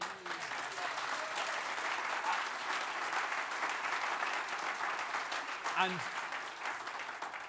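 Sustained applause from a large crowd at a Labour leadership hustings in Nottingham, steady and dense throughout, with a brief voice rising briefly near the end.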